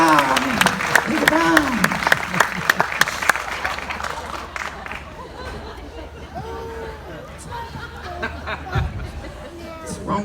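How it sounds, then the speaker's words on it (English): Audience applause at a magic show, a crowd clapping with distinct claps, chatter and scattered laughter, tapering down as a voice talks over it. "give a round of applause to my princesses of the day"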